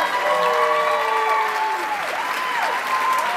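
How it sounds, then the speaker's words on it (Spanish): Audience applause fills a theater (Teatro Popular Melico Salazar) during a folk dance group's cultural show, steady and dense throughout, with whistle-like tones sliding over the clapping. "Fuerte el aplauso."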